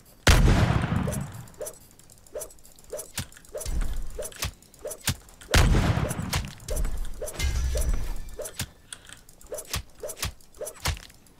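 Gunshots in the Roblox game Pirate vs Ninja crack out in repeated sharp bursts over several seconds, some in quick runs, with heavier impacts and rumbling in between.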